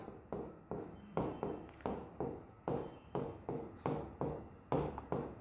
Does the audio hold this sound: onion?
no